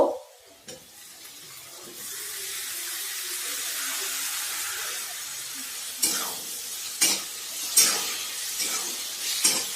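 Chopped tomato sautéing in a pan on medium gas for mix bhaji, a soft steady sizzle with a few clinks and scrapes of stirring near the end.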